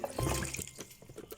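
Adobo sauce for catfish adobo pours into a frying pan (kawali) in a short liquid splash and trickle, loudest at first then easing into faint drips and gurgles, with no talking.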